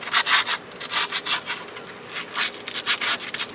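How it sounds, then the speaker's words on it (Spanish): Sandpaper scrubbing rust off a car brake part near where the pads sit, a close, rhythmic back-and-forth rasp in quick strokes with brief pauses, alone without talk. "vamos a dar un poco de lija en esta parte de aquí, para que salga el óxido"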